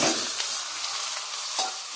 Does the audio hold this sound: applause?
no